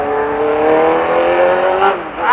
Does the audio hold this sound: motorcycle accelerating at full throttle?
yes